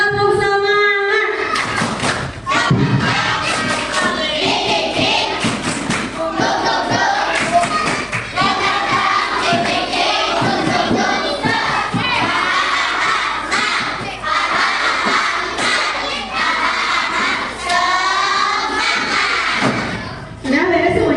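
Children at an Islamic holiday study camp performing a 'tepuk semangat' clap-and-chant together: loud, energetic group shouting and singing with thumping claps in rhythm, close and sustained.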